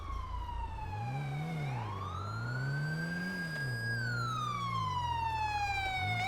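A wailing ambulance siren in GTA 5 rises and falls in long sweeps, loud and close, over a low engine rumble.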